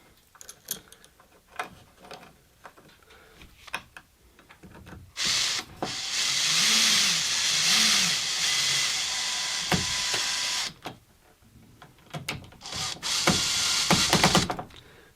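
A 3mm screw driven by hand with a screwdriver into a 2mm pilot hole: scattered clicks and scrapes, then a sustained grinding, creaking stretch as the screw bites, followed by more intermittent taps.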